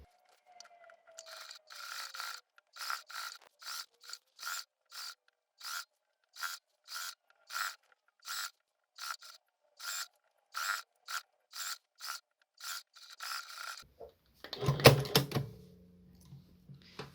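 A sewing machine topstitches the hem of an H-line skirt in a steady series of short mechanical whirring bursts, evenly spaced and moderately close, ending with louder clattering handling noise.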